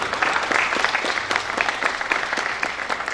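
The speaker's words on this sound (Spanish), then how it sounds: "El aplauso de Johnny también." Audience applause at a festival event, a steady dense patter of many hands clapping throughout, fairly close and even in loudness with no speech over it.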